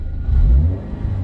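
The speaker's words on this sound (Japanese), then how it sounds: "5500回転で止めて、クラッチバーンと離す" A car engine revving hard toward high rpm before a drift clutch release, a short loud rising roar up close with no voices.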